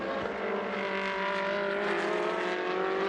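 Ferrari race car driven by Eric Prenot in a Coppa Shell race at Jerez de la Frontera, a loud, steady high-pitched engine howl held close throughout with no one talking.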